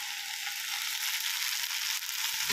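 Potatoes and onions frying with turmeric, salt and spices in a pan, a steady close hiss of sizzling oil throughout with faint stirring scrapes.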